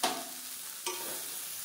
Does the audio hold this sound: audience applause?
no